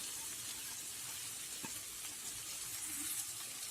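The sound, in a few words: fried cluster beans added to sizzling masala in pan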